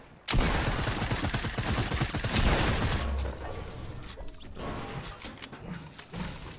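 Rapid, loud shotgun blasts in a video game arena match burst in sharply near the start and continue in a dense volley, easing into scattered shots and impacts later on.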